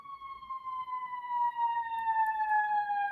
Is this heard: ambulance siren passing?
yes